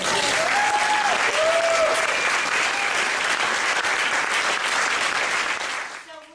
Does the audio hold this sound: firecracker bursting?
no